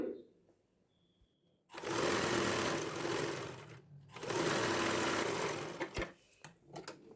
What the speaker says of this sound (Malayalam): പ്രഷർ ഫുട്ട് താഴ്ത്തി സ്റ്റിച്ച് ചെയ്ത് കൊടുക്കുക